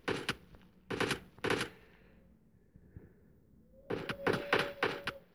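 Gunfire in the PUBG Mobile video game: sharp bursts of rapid shots in two clusters, three close cracks, then a pause, then a denser volley of several loud shots near the end.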